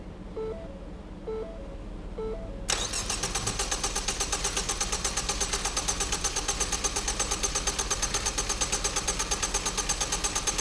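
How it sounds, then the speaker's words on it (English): A Ford engine cranks in a few short, quiet bursts, then catches and settles into a loud, steady idle with an even pulsing rhythm that continues for several seconds. "And it's going to count down till our engine cranks."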